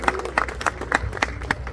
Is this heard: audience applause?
yes